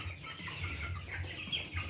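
Broiler chickens, 21 days old, cluck and murmur softly in a brooder house, a close, low chorus of short calls overlapping in an uneven rhythm.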